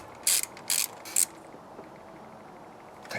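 Spanner tightening a spark plug on a Renault Megane Mk3, three quick metallic ratcheting bursts close up, then a quiet pause and one more faint click at the end, with no speech.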